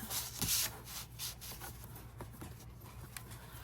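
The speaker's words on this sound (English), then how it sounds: "we're gonna score it around 3 edges of it at 1/4 inch" Paper scored along its edges with a scoring tool for a folio folder, a series of short, close scraping strokes over a faint low hum, with no talking.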